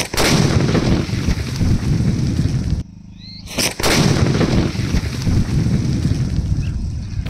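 A 1.5 kg paper country firecracker goes off outdoors with a loud, roaring blast and heavy wind buffeting. The sound cuts out abruptly partway through, then a second harsh burst follows and rumbles on to the end.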